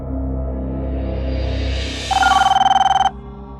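A telephone rings during a phone call in a TV crime drama episode, a loud, rapid electronic trill lasting about a second over a sustained dramatic musical tone, with no voices.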